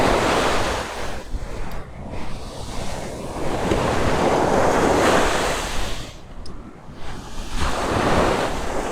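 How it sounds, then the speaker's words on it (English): Waves wash onto the beach at Lloret de Mar on the Costa Brava, a loud continuous surf roar that swells and recedes in broad surges, with heavy wind buffeting the microphone. "And we are going here at the beach."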